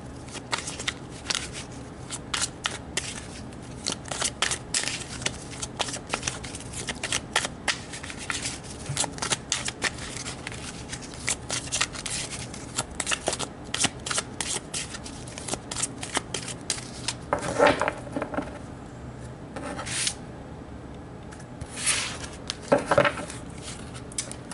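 Tarot cards being shuffled by hand at close range, a series of crisp riffling and flapping bursts with short pauses between, fairly quiet against a still room.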